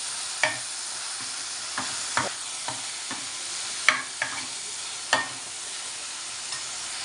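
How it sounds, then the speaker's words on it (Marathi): Ground masala paste sautéing for a fish curry, a soft continuous sizzle with scattered spoon taps and scrapes against the pan, close and moderately quiet with no talk. "खूप छान असं मस्त असं परतून घ्यायचं"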